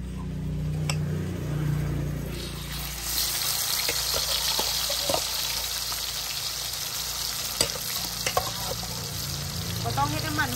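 Hot oil frying in a huge pot while laab-style curry broth for khanom jeen is made for a village merit festival, heard as a steady sizzle with scattered pops and scraping stirs throughout.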